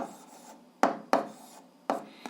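Marker or pen strokes land in sharp rubbing scratches while an algebra factorisation is written out: four distinct, fairly loud strokes in uneven rhythm, close up, with no voice.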